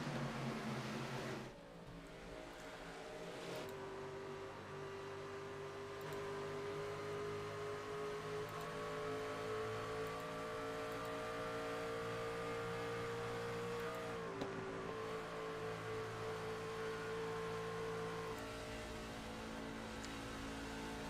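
A Ram race truck engine in iRacing drones steadily at high revs for about twenty seconds on the Darlington oval, pitch rising and dipping gently with gear and throttle, with no talk over it.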